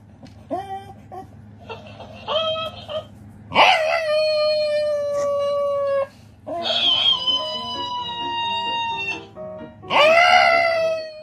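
A dog wails, moans and yelps in long, rising howls, answering repeated electronic mimic sounds from a cactus toy; several bursts over a steady low hum, close and loud.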